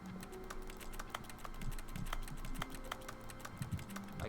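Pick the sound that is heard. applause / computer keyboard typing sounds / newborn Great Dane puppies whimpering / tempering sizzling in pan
computer keyboard typing sounds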